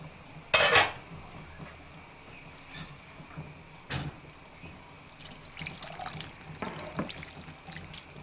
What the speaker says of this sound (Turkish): biraz daha su ilave edeceğim